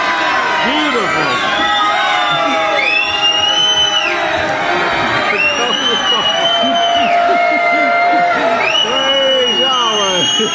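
A large crowd at a religious gathering at the Great House of Yahweh cheers loudly and continuously, with whoops, shouts and applause mixed with many overlapping voices.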